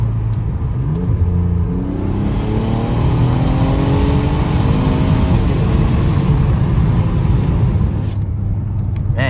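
A 2012 Ford Taurus SHO with a turbo and a broken exhaust, driven under light throttle, gives a loud, rough engine rumble with a rising whir as it gathers speed, heard continuously from inside the car.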